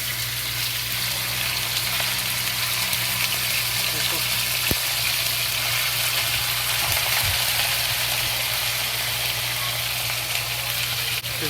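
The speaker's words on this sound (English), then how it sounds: "Just add the beef into the oil." Sliced beef sizzles and fries in hot oil in a wok for a cumin stir-fry, a steady broadband hiss with a low hum underneath, continuous and fairly close throughout.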